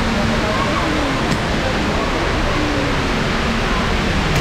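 An artificial indoor waterfall inside Dubai Mall gives off a steady, even rush of falling water, a constant broad hiss with a faint murmur of shoppers beneath it.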